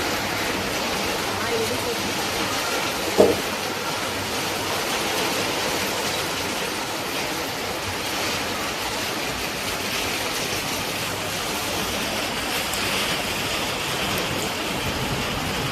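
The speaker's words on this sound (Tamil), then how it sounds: "பாண்டிச்சேரியில் எவ்வளோ மழை ஊற்றுது பாருங்க, இடிக்குது" Heavy monsoon rain pouring down in Pondicherry, a dense, steady rushing hiss that fills the scene without pause, with one brief knock near the start.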